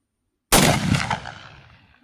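A single loud shot from a Winchester 1886 lever-action rifle chambered in .45-90, fired at an outdoor range, cracks sharply after a moment of silence and rolls away in a fading echo.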